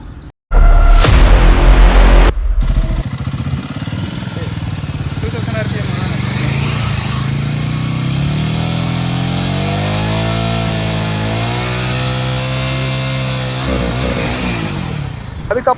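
A Royal Enfield Guerrilla 450 roadster motorcycle runs close by, with a sharp loud start, then a steady exhaust drone that rises and falls as the engine revs, continuous for the whole stretch.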